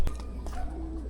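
Racing pigeons at a training toss in Plaridel, Quezon, give a brief, soft low coo close by, over a steady background hum with no talk.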